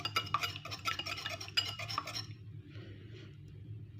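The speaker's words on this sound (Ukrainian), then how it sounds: "Вінчиком я його розіб'ю. Так, розколочу." Egg batter being whisked with a whisk in a bowl for whole-grain flour pastry dough, a quick run of light metallic clinks and scraping strokes that fades to faint rustling, close and quiet.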